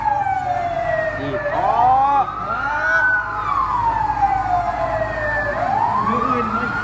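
A fire engine siren wails and sweeps up and down continuously, loud and near, as the truck arrives at a burning house in Savannakhet, with faint background noise beneath.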